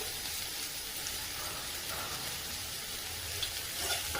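Finely chopped onion and a spring onion frying in a pan for a brinjal bharit, giving a soft, even hiss that holds steady throughout with no one speaking.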